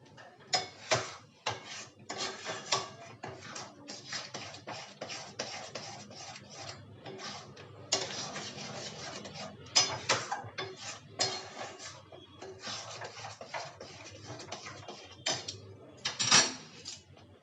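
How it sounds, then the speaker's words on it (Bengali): A utensil scrapes and clatters irregularly against a wok while khoya kheer is stirred for patishapta filling, the metallic knocks and scrapes coming close and uneven. "এটা দিয়ে আমি খুব ভালো করে নাড়বো। এটা এইভাবে নাড়তে থাকবো।"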